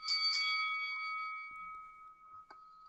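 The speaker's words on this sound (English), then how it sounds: "Three quick bells of mindfulness, those were." Bright mindfulness bell chimes ring on a podcast: overlapping strikes open the clip and a last light strike comes near the end, each leaving a long clear metallic tone that slowly fades.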